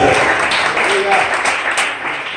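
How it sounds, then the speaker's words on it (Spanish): A church congregation applauds in a burst of steady clapping that sounds like a crowd, with a preacher's voice speaking over the clapping. "Ese aplauso para Cristo en esta hora, iglesia"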